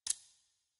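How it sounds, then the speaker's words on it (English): A bomb is activated in a video game with a single short, bright click-like burst that quickly fades to silence. "Activating the bomb."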